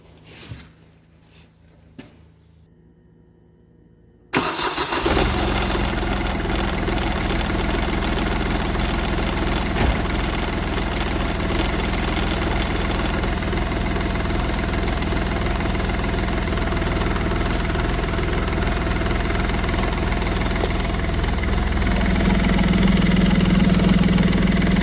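A Smart Fortwo diesel engine, just fitted with a new turbo cartridge, cranks briefly after a few quiet clicks, then catches and settles into a loud, steady, clattering idle that holds for the rest of the clip.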